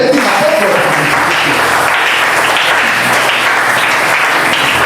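A church congregation applauds loudly during a sermon, a thick, sustained wash of many hands clapping together without a break, close and steady throughout.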